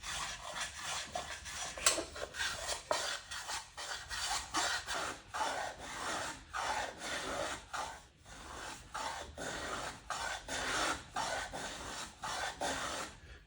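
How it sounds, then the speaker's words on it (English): A block plane rasps across a wooden edge, chamfering it in a steady series of short, repeated strokes, close and fairly quiet with no talking. "all I do is take the plane and just remove the sharp edge."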